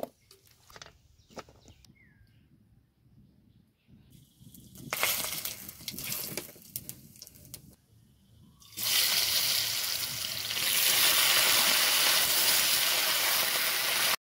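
Cut raw banana pieces washed in water in a home kitchen, faint handling and clinks first, then sloshing and splashing, ending in a loud steady stream of running water.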